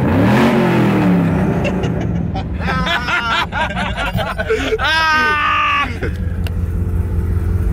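A car engine, a truck with an LS V8, revs loudly at close range with a rumbling, rising roar under excited voices and laughter, continuing through the whole stretch.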